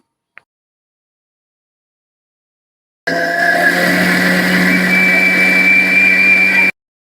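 A mixer grinder grinds rice with cardamom, cumin and jaggery, a loud steady motor whine that starts abruptly after near silence, runs evenly for about three and a half seconds, then cuts off.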